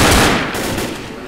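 Rapid gunfire in the zombie shooter Left 4 Dead near a church, a dense, loud burst of shots at the start that tails off into a quieter, steady rattle.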